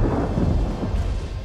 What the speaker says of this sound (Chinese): 这又是哪里来的雷电？